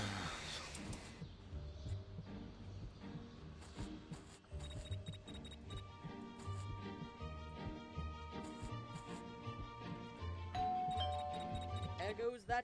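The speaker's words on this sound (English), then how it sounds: "There goes that stupid bell again." A doorbell chimes repeatedly in the video game Scary Teacher 3D, bright tonal dings recurring through the passage over busy game sounds, with a person talking throughout.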